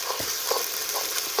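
Onions and ginger-garlic paste frying in hot oil for village-style Kolkata mutton biryani, a loud, close, continuous sizzle with occasional stirring scrapes and no talking.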